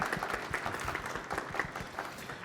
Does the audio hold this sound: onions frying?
no